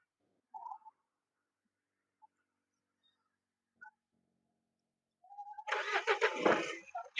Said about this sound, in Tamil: வண்டி கிளம்போதுங்க.